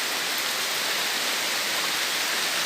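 Heavy rain pours down in a village in Bangladesh, a dense, loud, unbroken hiss that stays steady throughout with no voices.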